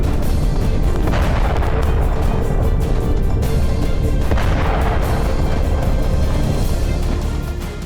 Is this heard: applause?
no